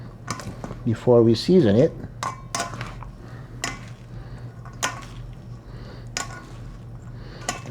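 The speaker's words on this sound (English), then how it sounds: "now we're gonna mix it first. Mix it all up." Hawaiian-style potato salad with pineapple being stirred and mixed, with a run of close utensil clinks and scrapes in an irregular rhythm, while a person talks over parts of it.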